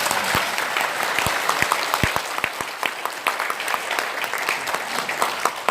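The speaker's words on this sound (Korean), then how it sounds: "지금 박수 한번 보내주세요" An audience at a Korean public forum applauds, a sustained crowd clapping with dense overlapping hand claps at steady volume throughout, no speech.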